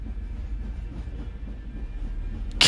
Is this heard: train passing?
yes